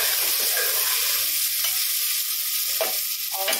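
Spiced vegetable rice for veg tehri being stirred in a pot, a steady soft scraping and sizzling wash throughout with a few sharper spoon scrapes near the end, close and alone.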